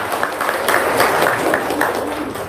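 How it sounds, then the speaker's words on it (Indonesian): Dense crowd applause at an Indonesian testimonial gathering, steady broadband clapping from many hands held at an even level throughout, no single claps standing out. "Tepuk tangan."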